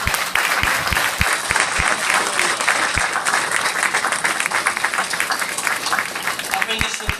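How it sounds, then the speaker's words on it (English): An audience applauds panelists at the close of a session, a full, continuous burst of clapping with loud hand claps up close, and a few voices talking under the noise. "Give our panelists a round of applause"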